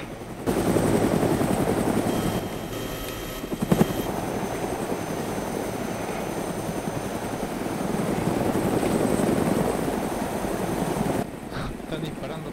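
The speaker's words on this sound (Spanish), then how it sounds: "Están disparando todo, ¿no? ¿Se escuchan muchos tiros?" Bursts of gunfire in the video game DayZ crackle over a constant droning helicopter rotor, with a few sharper shots standing out midway.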